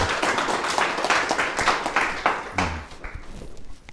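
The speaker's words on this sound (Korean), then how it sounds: "박수" Clapping from a gathering at a Saturday lecture in a Methodist church, dense and steady for about three seconds before thinning out, with a brief voice near the end.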